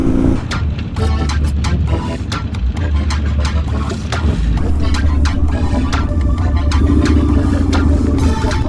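A Harley Cross motorcycle rides over slippery dirt, its engine a loud, steady rumble with gravelly clatter and bumps throughout, close and continuous with no voices.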